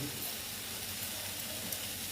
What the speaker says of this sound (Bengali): এই দেখো এরকম ভাজা ভাজা করে নিচ্ছি